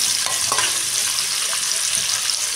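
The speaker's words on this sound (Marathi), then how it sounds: "फ्राय करून घ्यायचं, चांगला लाल होतं चांगला करून घ्यायचं." Onions for chicken biryani fry in a pan over a high gas flame with a dense, steady sizzle and crackle, loud and close, broken by a few faint stirring knocks.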